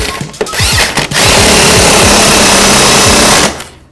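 A power tool tightens the wheel nut on a bicycle in a workshop with loud, close, continuous whirring and rattling for about three seconds after a couple of short bursts, then stops.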